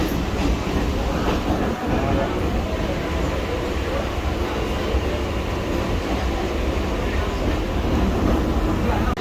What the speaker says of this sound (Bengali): Bombay local train